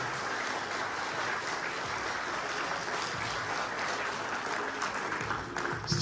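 Audience applause greets a bodybuilder at a bodybuilding competition, a steady wash of many clapping hands heard from some distance, moderately faint and even, with no voices over it.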